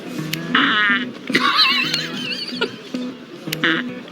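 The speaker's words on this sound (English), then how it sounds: "Oh, it's remote control fart." A remote control fart noise toy lets out several sputtering, wavering bursts close by, with short pauses between them.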